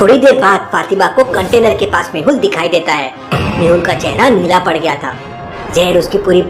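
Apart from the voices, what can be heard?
No distinct noise like a dog, phone or traffic.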